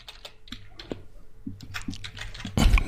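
Keystrokes on a computer keyboard while keywords are entered into JavaScript code, tapping in an irregular rhythm of close, distinct clicks, with a denser, louder burst of keys at the end.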